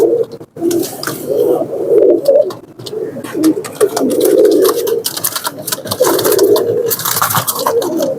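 Several Saharanpuri pigeons coo repeatedly in low, throaty bursts close by, overlapping in a continuous rolling murmur with faint clicks and rustling.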